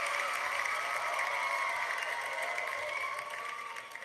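Canned cheering and applause played during a live stream to celebrate a new subscriber: a continuous wash of clapping and crowd noise at moderate volume that fades slightly toward the end, with no talking over it.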